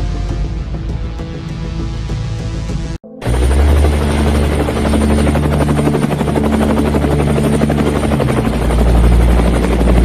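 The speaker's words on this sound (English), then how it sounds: "Darkness looms over the city of Gotham as the city's police helicopters search for the notorious criminal called the Penguin" Police helicopters flying over a city at night, a steady, loud rotor drone that briefly cuts out and returns fuller and heavier, holding a continuous chopping roar throughout.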